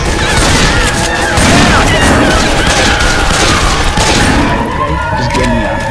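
Rapid, loud gunfire and bangs aimed at the Witch in Left 4 Dead 2 come in dense bursts, with shouting voices over the shooting.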